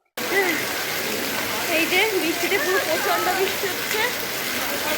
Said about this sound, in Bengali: আমি বাজারে আসতেই কেনাকাটা শেষ হওয়ার আগেই বৃষ্টিটা নেমে গেছে